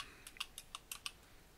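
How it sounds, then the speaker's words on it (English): Someone types a password on a computer keyboard while setting up Windows, with about seven quick, light key clicks in an uneven burst that then go quiet. The clicks are close and faint, and no voices are heard. "I just type my password and then I re-enter my password"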